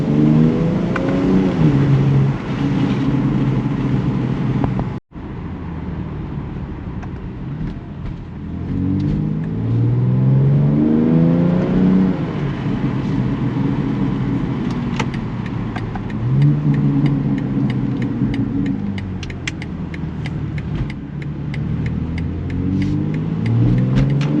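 A 2021 BMW X3 M Competition on its stock exhaust pulls hard through repeated upshifts, with loud rising engine drone, a brief cut in sound, then more acceleration runs and burbling crackle near the end.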